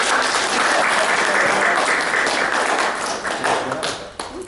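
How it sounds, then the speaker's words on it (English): Audience applause at a live hypnosis seminar, a dense, steady wash of many hands clapping close by that holds for several seconds before thinning and trailing off at the end. "Give her a round of applause."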